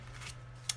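Scissors cutting extra gold paper off the edge of a handmade card make a quiet snip that ends in a single sharp close click.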